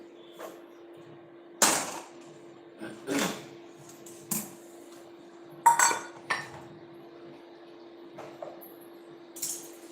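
Utensils clink and scrape against a hot cooking pot as food is stirred while preparing an aloo mattha sabzi, with several sharp intermittent metallic knocks over a steady low hum.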